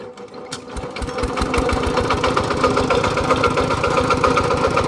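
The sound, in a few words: engine running after being hand-started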